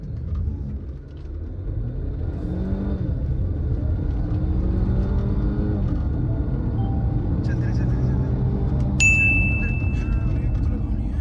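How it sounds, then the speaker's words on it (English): A 2020 Mercedes C-Class accelerating hard at full throttle, heard from inside as a steady low engine rumble with rising tones, faint chimes and a voice talking over it. "now it's time to floor it"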